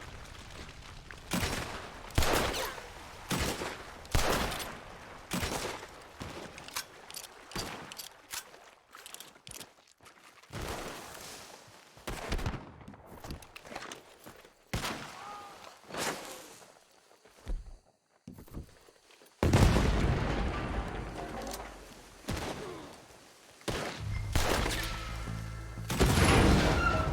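Gunfire crackles through a Red Dead Redemption 2 shootout against Lemoyne Raiders, with repeated loud shots in uneven bursts and volleys, some near and some farther off, ending in a denser, noisier stretch of firing.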